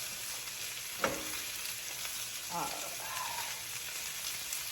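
Meat sears in a hot pan with a steady, fairly quiet sizzle throughout, broken by a brief louder crackle and a few soft scraping touches; no voices.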